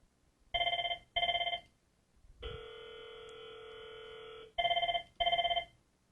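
A telephone rings on an incoming call through a Cisco voice router setup: two double ring bursts, then a long steady tone of about two seconds, then two more double bursts, clean and close with no talk.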